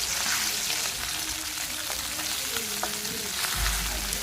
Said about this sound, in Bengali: উল্টে পাল্টে মাছগুলোকে আমি মোটামুটি চার পাঁচ মিনিটের মতো একটু ভেজে নিচ্ছি